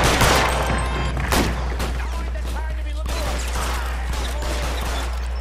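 Gunfire in the video game L.A. Noire: dense, rapid volleys of shots crackle nearly nonstop, loudest in the first seconds, over a steady low background rumble.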